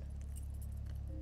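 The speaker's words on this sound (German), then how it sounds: "Ein kleiner goldener Schlüssel an einem runden Schlüsselbund." Small golden keys on a round key ring jangle in the horror game Song of Horror, a brief metallic rattle over a steady low hum.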